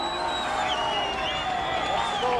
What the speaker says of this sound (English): The crowd on the Shenendehowa side of the field congratulating themselves, shaking their pom-poms, their hats, their gloves, you name it.